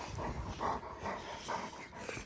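A Cane Corso dog whimpers in soft, repeated pulses close by during outdoor training, with faint panting between the whines.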